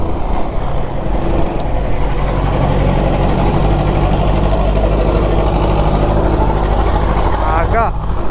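A vehicle's engine drones steadily as it climbs a hill road toward Kodaikanal, a loud continuous low hum with road rumble, while people talk over it throughout.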